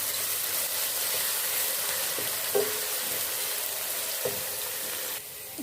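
Ginger garlic paste fries and is stirred in a pan for a Punjabi saag. It gives a steady, even hiss throughout, with a couple of faint knocks and no talking.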